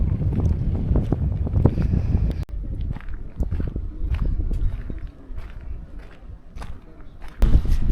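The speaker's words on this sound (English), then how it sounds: "It's quite windy and cold" Strong, gusty wind at Gergeti Trinity Church high in the Caucasus Mountains of Georgia buffets the microphone in loud, rumbling surges, dropping briefly before a sharp blast near the end.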